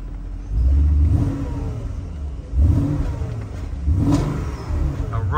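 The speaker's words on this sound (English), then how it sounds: "It really does have a nice sound of this car." Porsche Cayenne GTS with a 4.8-litre V8 and Tiptronic S gearbox, 420 bhp, revving hard in close, loud surges with a deep, throaty growl that rises and falls between blips.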